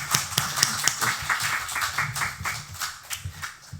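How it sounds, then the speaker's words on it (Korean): A church congregation claps for the choir during a Sunday service: a brief patter of scattered claps, loose and uneven rather than a full roar, moderately near, with no speech. "다시 한번 성가대에게 박수 한번."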